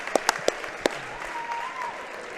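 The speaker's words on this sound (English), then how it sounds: "One more round of applause for our Montoursville Warriors seniors." A crowd in a high school gym applauds seniors before a Loyalsock vs. Montoursville girls' basketball game, a few loud sharp claps at the start giving way to a steady wash of clapping.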